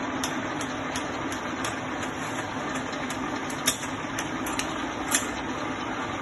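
A Soviet 675P universal milling machine runs its table feed with no cutter fitted, giving a steady mechanical hum and whine with faint periodic ticks and a few sharper clicks.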